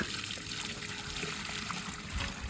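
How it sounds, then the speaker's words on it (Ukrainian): Tap water pours from a bucket into a small garden pond, a steady close trickle and splash running without pause. "починаємо заливати наш ставочок"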